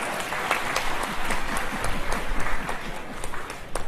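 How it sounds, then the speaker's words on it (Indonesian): A church congregation at a pastor's ordination service applauds, with scattered individual claps building into fuller clapping that swells and fades over a few seconds. "Sekali lagi saudara-saudara berikan tepuk tangan biar saya semangat."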